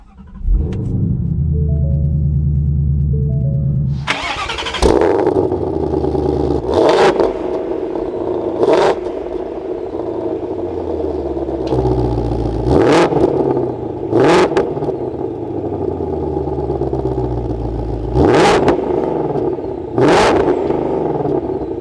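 A 2021 Ford Mustang Shelby GT500's powerful engine cranks and roars to life, then revs sharply several times in bursts, settling to a deep rumbling idle between each loud blip.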